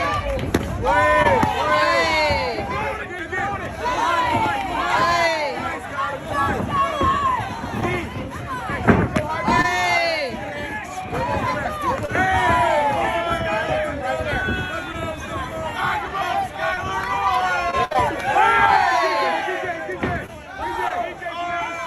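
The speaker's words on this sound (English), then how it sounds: "Fantastic to hear people cheering for you." A boxing crowd cheers and shouts continuously as a fighter from South Bend, Indiana enters the ring, a dense, loud babble of voices and yells with an announcer's voice among it.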